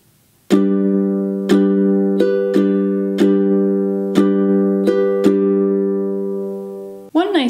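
A ukulele strummed in a steady pattern, bright chords ringing out between a handful of evenly spaced strokes, before a voice starts speaking at the end.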